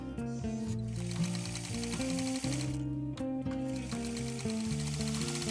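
A sewing machine stitches an elastic waist casing on lined pants, running in steady mechanical bursts with a brief pause midway, close and fairly quiet.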